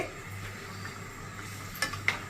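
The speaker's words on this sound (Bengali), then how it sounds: "এই মশলার মধ্যে ফুলকপি আলু কষিয়ে নিব" Cauliflower and potato frying in spice masala for a kalbaush fish curry, a low close sizzle with soft stirring scrapes and two brief metallic taps of a spoon against the pot near the end, no voices.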